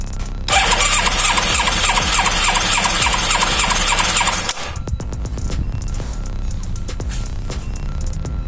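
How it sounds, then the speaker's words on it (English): Yamaha FZR 1000 EXUP motorcycle engine held at full throttle, a loud sustained high-revving scream that cuts abruptly to a lower, rougher running note partway through, with no talk. "Cylinder number 3. Full throttle."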